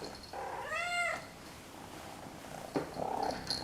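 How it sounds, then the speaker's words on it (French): A cat purrs softly and close, with a short meow early on and quiet rumbling murmurs later, faint against a low background. "Le ronronnement, soi-disant,"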